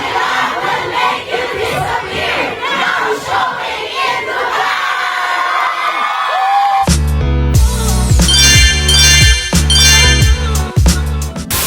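Fans shouting excitedly at a Dubai Mall special screening of My Love Will Make You Disappear with Kim Chiu and Paulo Avelino, a loud dense crowd clamor that gives way to booming music with rhythmic beats.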